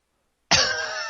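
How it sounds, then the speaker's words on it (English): A single harsh cough that bursts out abruptly after a moment of silence and trails off into a rough, breathy exhale, close to the microphone. "I got a cough."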